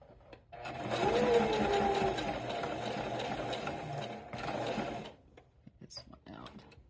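A sewing machine runs in two steady motorized bursts while back stitching along a curve on a bunny pattern, with a brief pause between them. It stops near the end, and someone speaks quietly over it.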